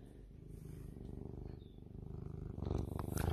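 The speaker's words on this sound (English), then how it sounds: "Are you purring for the camera?" A pet cat purrs steadily and close up, a continuous low rumbling pulse that swells louder toward the end, with no talking over it.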